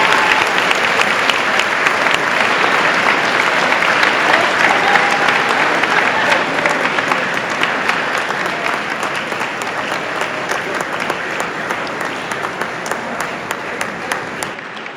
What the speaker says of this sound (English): Let's give one more round of applause for all of our recipients.